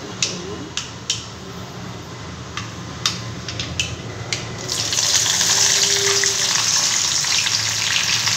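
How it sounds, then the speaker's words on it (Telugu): Tempering seeds hit hot oil for bitter gourd curry, setting off a loud, steady sizzle after a few sharp ticks and taps, close up with no talking. "నేను పోపు గింజలు వేస్తున్నాను"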